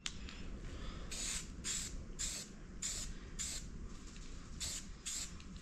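Spray paint can applying satin claret wine protective enamel, repeated short hissing bursts with brief pauses, fairly faint and close.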